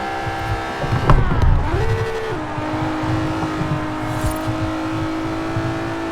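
Simulated car engine in Forza Horizon 4, a five-speed car driven with a Logitech G29 wheel, revving steadily with a pitch that rises and dips as the clutch is only partly pressed, loud and continuous without talk.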